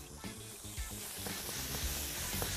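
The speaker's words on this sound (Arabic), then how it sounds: "نقلب كل دول مع بعض" Celery, onion, garlic, coriander and dill are stirred in olive oil in a pot for green rice, producing a soft continuous sizzle with low, rhythmic scraping and knocking from the stirring.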